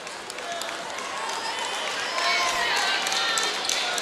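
A crowd at a women's college basketball game against Grambling applauds after a conference win, with scattered clapping, shoe squeaks and arena chatter filling the gym at a steady, lively level.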